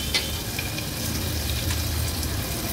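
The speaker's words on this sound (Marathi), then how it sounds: "क्रश थोडासा तेलावर परतून घ्यायचा।" A crush of ginger, garlic and chili sautéing in about two tablespoons of hot oil in a pot, a dense steady sizzle with faint stirring, close and constant, no voices.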